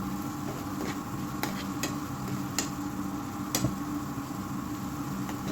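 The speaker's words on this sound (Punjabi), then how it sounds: "ਸਭ ਨੂੰ ਅੱਛੀ ਤਰ੍ਹਾਂ ਮਿਕਸ ਵੈਲ ਕਰਾਂਗੇ" Egg bhurji ingredients with onions get stirred in a pan, a spatula clicking and scraping the metal in irregular taps over a steady low sizzle, close and moderately loud, with no voices.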